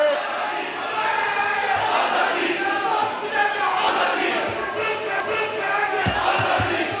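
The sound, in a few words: crowd chanting slogans in National Assembly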